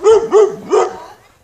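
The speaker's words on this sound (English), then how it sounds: "Oh, look at the little chihuahua." A small chihuahua yaps three times in quick succession, sharp close barks with a slight whine, trailing off into quiet.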